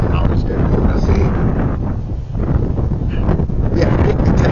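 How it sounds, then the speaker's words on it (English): Santa Ana winds buffet the microphone with continuous loud low rumbling gusts, a heavy outdoor roar that persists throughout, with a voice faintly present beneath. "It's a little bit windy. The Santa Ana winds."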